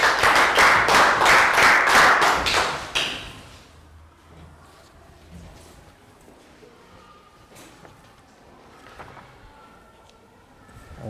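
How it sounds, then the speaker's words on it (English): A class of young students claps together for a classmate, a dense burst of loud applause lasting about three seconds before it drops away to quiet room sounds and scattered small noises. "Round of applause for Pat."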